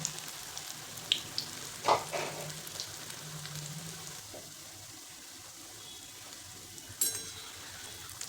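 Small sabudana vadas frying in oil over a medium flame, a soft steady sizzle and crackle running throughout with a few brief louder pops and clinks, fairly quiet and unaccompanied by talk.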